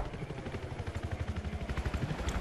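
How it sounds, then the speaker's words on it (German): A helicopter in the video game Battlefield 4 on PS4 throbs with a fast, pulsing rotor beat, fairly faint and steady throughout, with no voices. "Der Heli soll hier verschwinden."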